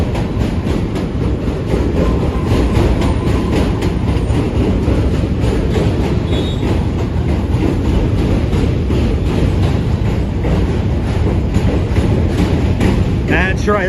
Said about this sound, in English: It's a Q train. Brooklyn bound Q train.